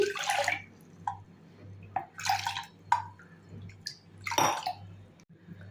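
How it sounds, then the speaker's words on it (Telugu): Water poured from a half cup into washed wheat rava in a kitchen, heard as several separate splashing pours with short pauses between them, fairly close and clear against a steady low background hum. "వాష్ చేసుకున్న దాంట్లోకి హాఫ్ కప్పుతో మూడు కప్పుల నీళ్లు పోసి"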